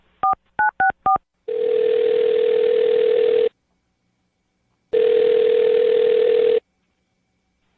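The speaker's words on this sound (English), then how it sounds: "I'm going to dial his phone number right now" Telephone keypad tones beep four times in quick succession, then two long, loud ringback tones sound with a silent gap between them, close and clear with no voices.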